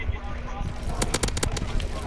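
Grease Gun bursts from Call of Duty gameplay, a quick run of sharp rapid shots crackling over a steady low rumble of game noise, with a voice talking nearby.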